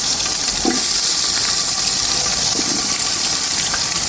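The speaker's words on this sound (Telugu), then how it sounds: "ముందుగా ఆయిల్ పోసేసుకున్నాం, ఉల్లిపాయలు వేసుకుందాం." Onions fry in hot oil for a chicken curry, a loud, close, continuous sizzle and crackle with a couple of brief stirring scrapes, steady from start to finish without talk.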